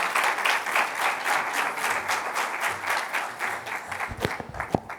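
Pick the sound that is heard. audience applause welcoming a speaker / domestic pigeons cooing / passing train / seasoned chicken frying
audience applause welcoming a speaker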